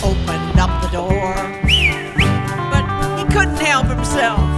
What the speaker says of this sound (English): I whistled as I opened up the door